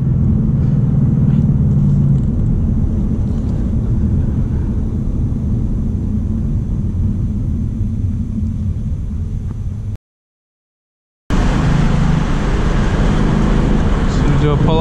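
Manual 2019 Ford Mustang GT driven on the road, a loud continuous low engine and road rumble filling the cabin, cutting out for about a second before resuming with a steady drone and a voice speaking over it.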